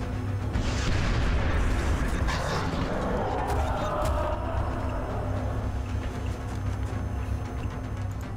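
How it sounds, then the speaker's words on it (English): A rocket launcher fires in the XCOM strategy game, a dense rumbling blast and roar filling the whole stretch, loud and continuous with game sound effects layered in. "I got Miles O'Brien, got his rocket launcher out"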